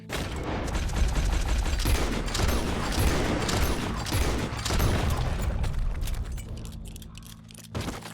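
Rapid gunfire from Red Dead Redemption 2 as a rider shoots at an animal, dense loud bursts of shots over hoofbeats and game mechanics, tapering off near the end.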